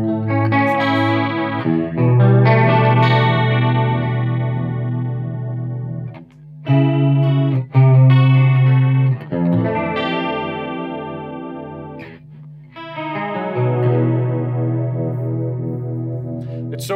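Electric guitar through a TC Electronic Corona Chorus pedal loaded with a triangle-wave chorus TonePrint, strummed chords ringing out with a swirling, shimmering modulation in several loud, sustained phrases separated by brief pauses, no voices.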